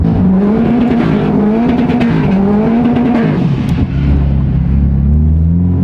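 A built Subaru STI engine revs hard and bounces off its rev limiter while driving on a road at night, a loud, close, fluttering engine drone that wavers in pitch before dropping into a lower, steady rumble.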